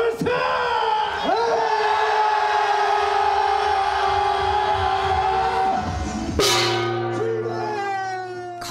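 A large gong is struck at the start of a family marathon, with a couple of hits early and a strong one later, each leaving long sustained ringing tones over a loud, yelling outdoor crowd.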